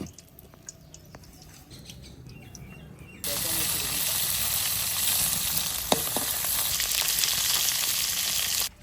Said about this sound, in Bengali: এই মাছ করা ভাজা হয়ে গেছে, তুলে নিচ্ছি।